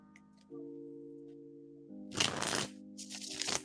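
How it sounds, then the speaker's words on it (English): Two quick bursts of tarot cards being shuffled, crisp riffling rustles over a soft steady background tone. "One more shuffle"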